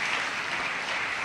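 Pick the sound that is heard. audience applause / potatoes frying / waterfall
audience applause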